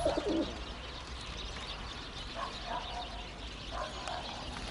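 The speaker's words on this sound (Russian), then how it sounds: "Так голуби должны стартовать." Racing pigeons at a release, with faint cooing and soft bird calls over steady outdoor background noise, including a brief fluttery burst at the start.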